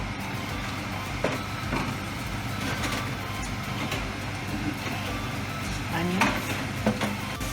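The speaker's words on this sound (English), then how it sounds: "we're going to be adding in our onions" Onions hitting hot bacon grease in a pan, giving a steady sizzle with a few scraping stirs and clinks, fairly close, with no talking.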